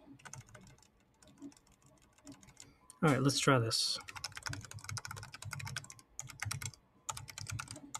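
Keystrokes clatter on a Riskeyboard 70 fitted with 3D printed switches and stabilizers, close and crisp, with a burst of loud, rapid space bar hammering in the middle; someone speaks briefly at the start.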